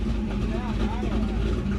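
The small-block engine of a Malibu boat idles close by, a steady low rumble that holds throughout, while a person talks over it.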